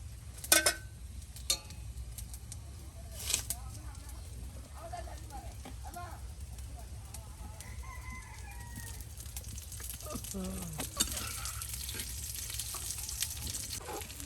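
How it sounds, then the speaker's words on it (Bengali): Drumstick leaf fritters fry in oil with a faint, steady sizzle, occasional clicks and stirring knocks over a low background hum in a quiet outdoor setting. "আর এদিকে কিন্তু আপনার সজনে পাতার বড়া কিন্তু বাজি হয়ে গেছে"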